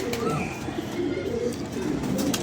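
Pigeon cooing in soft low repeated phrases, close by and steady, with faint room noise and no talk over it; the bird is being handled by a keeper.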